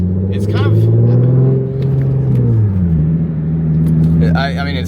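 A Nissan 350Z engine idles with its revs bouncing. The low tone rises and dips, and a voice is heard over the engine near the end.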